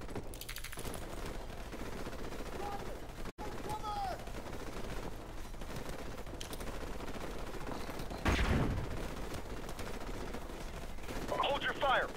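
Gunfire in the Call of Duty 4: Modern Warfare Remastered campaign, a steady wash of rifle and machine-gun bursts with heavier blasts near the end, running continuously under raised voices.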